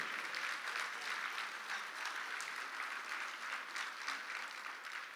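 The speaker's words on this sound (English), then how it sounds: "So can we give an applaud for all of our sponsors?" An audience at a city State of the City address applauds the event's sponsors with steady, dense clapping that holds evenly for about five seconds, slightly distant and with no voices on top.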